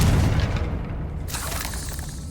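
A Confringo spell detonates in Hogwarts Legacy, a loud, rumbling blast that fills the start and rolls into a sustained, noisy roar with a sharp crackling burst partway through.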